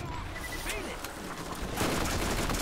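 Steady gunfire in the co-op shooter Borderlands, a dense run of shots that thickens toward the end beneath a voice talking.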